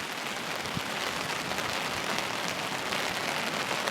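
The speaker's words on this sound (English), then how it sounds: "it's still day 3 and it's still raining." Steady rain falling at a spring bear-hunting camp in Hells Canyon, Oregon, a dense, even hiss of drops on a cover, continuous and fairly close with no talking.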